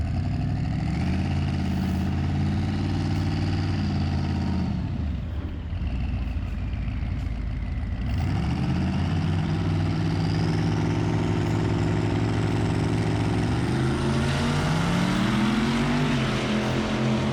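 A twin-turbo Ford Mustang with a 6.0 engine idles at a drag strip, a steady, loud low rumble that holds throughout with a brief dip midway and some faint whine above it.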